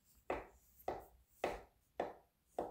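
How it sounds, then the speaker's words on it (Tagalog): Knife chopping through peeled cucumber, apple and avocado on a cutting board for salad, five crisp evenly spaced cuts close up and alone. "Tsaka natin hiwain."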